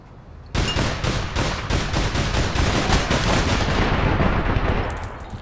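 Sustained automatic gunfire in the online game APB Reloaded, a loud rapid burst of evenly spaced shots starting abruptly and running for about five seconds before tapering off.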